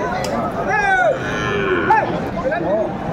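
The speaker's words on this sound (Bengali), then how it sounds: "শাহিওয়ালের ষাঁড় বাচ্চা আমরা দেখছি" Sahiwal bull calf at a farm market lets out a couple of drawn-out moos, close and fairly loud, over a background of people chatting.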